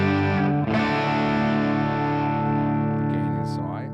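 Sustained clean electric guitar chord through a Fractal FM9 on a Fender Twin amp Double Verb preset, ringing steadily with a lush, slightly modulated shimmer. It rings for several seconds after a quick strum and fades gently at the end.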